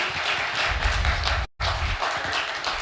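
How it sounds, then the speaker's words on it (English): An audience at a launch event breaks into sustained applause, steady dense clapping heard up close that runs on with a brief dropout midway. "let's give them a big, big round of applause"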